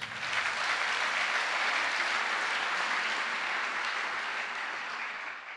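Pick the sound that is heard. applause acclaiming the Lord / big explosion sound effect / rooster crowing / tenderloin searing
applause acclaiming the Lord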